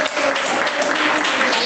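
Congregation clapping during a church sermon, a dense steady wash of applause with a faint voice underneath.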